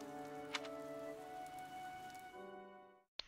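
Rain falls steadily in the video game Fire Emblem Three Houses, a soft continuous patter beneath tonal game music that fades out near the end before a brief sharp click.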